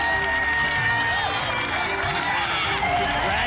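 A crowd at the Big Buck Hunter World Championship, an arcade hunting game tournament, cheers and shouts continuously at a loud, sustained level throughout.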